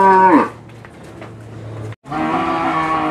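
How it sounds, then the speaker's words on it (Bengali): A cow at a cattle market lets out a loud, close moo, then falls quiet briefly before another sustained, lowing moo, with faint market noise underneath. "মিডিয়াম সাইজের গরু।"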